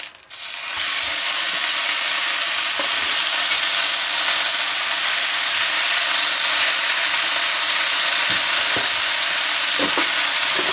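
A pound of chorizo fries in a pan, giving a steady, loud, close sizzle that hisses continuously, with occasional faint stirring taps and no talk.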